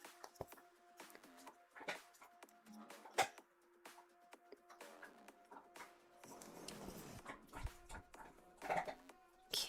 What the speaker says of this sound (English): my dog is so noisy with her little chew